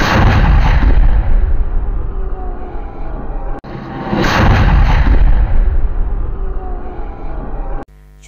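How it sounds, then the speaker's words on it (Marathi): A ceremonial cannon fired in a village square for Dasara (Vijayadashami) celebrations: two loud, booming blasts a few seconds apart, each followed by a long rumbling roll that fills the space before fading. "शिरोळ येथील दसरा चौक येथे 3 फैरी तर ग्रामदैवत बोआपण मंदिर येथे 2 फैरी उडवण्यात आल्या"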